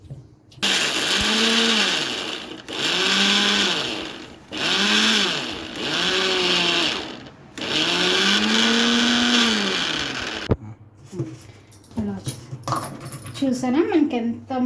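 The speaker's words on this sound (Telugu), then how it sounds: "హ్యాపీగా మంచిగా మెత్తగా గ్రైండ్ చేసేసుకుందాం ఇప్పుడు" A small mixer-grinder jar grinds peanuts in four loud whirring bursts with short pauses between, the motor pitch rising and falling with each run, followed by quieter clinks and a voice.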